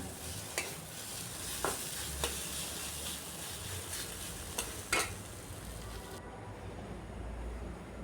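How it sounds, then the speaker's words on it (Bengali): Stuffing with green chillies frying in a wok for stuffed spiny gourd, a steady close sizzle broken by several sharp scrapes and taps of a spatula stirring the mixture. "কাঁচা লঙ্কাটা দিয়েও কিছুক্ষণ এইভাবে ভাজলে ঝালটা খুব ভালো হবে"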